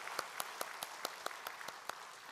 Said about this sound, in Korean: 한 번 더 아멘 하고 박수합니다